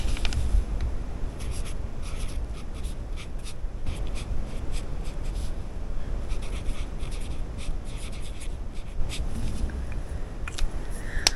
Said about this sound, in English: So let me write this down right here.